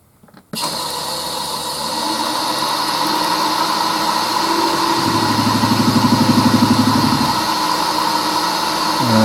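A lathe turns a workpiece roughly cylindrical at about 700 RPM, a loud, steady mechanical hum with a tonal whine starting abruptly after a short quiet moment and running continuously.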